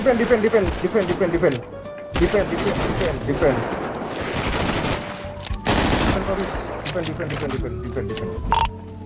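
Rapid bursts of automatic gunfire in a GTA V roleplay shootout, loud and close, with voices calling out over the shooting throughout.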